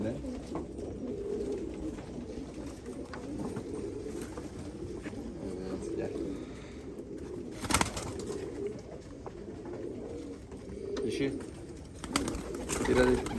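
Pigeons coo in soft, low rolling calls across the whole stretch, two female birds among a loft of Polish-bred pigeons, with a brief knock or thud partway through and some faint background rustle.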